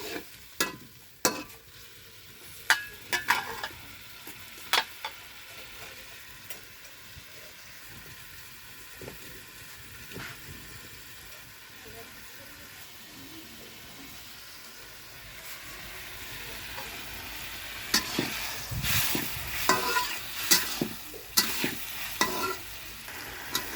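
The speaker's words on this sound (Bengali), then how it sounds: "এই যে ছোট মাছ নিচে আসছি রান্না করতে মাটির চুলায়।" Small fish cook on a clay stove with a soft, uneven sizzle and scattered scraping and clicking stirs, quiet at first and growing busier and louder near the end.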